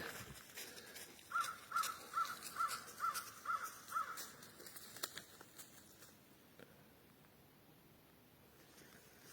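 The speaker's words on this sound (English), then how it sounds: "you can hear nothing except perhaps the crow" A crow caws seven times in a steady series, moderately distant, over quiet outdoor ambience with faint patter and rustling.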